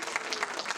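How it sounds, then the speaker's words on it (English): A short burst of steady clapping from a lecture audience applauding the speaker after a university talk, a dense even patter heard briefly. "Let's give a nice round of applause for"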